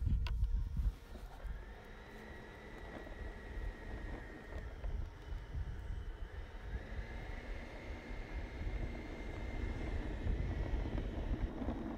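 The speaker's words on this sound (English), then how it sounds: "Okay, taxiing out." An FPV model plane taxis out on a runway with a faint, steady motor whine under wind noise, holding a thin tone that rises briefly and settles, with no talk.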